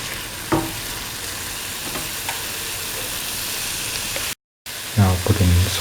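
A soy chunk and ash gourd mixture sizzles steadily in a pan while being stirred, with occasional scraping clatters of the utensil and a voice speaking briefly at the end after a short gap.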